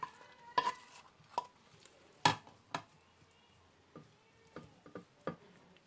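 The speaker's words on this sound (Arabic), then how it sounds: "هنبدأ بقى نفضي الكرنب بتاعنا" Cauliflower pieces tipped into a serving dish for a tahini-sauce recipe, giving a handful of sharp clattering knocks and scrapes at close range, spaced irregularly against a quiet kitchen background.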